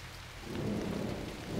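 Steady rain falls, heard as a soft, even wash with a faint low rumble underneath, quiet and continuous with no voices.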